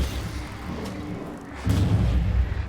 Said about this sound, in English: Alright, one grenade.